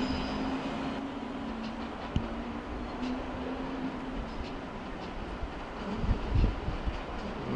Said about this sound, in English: here is a railjet train coming in from probably Budapest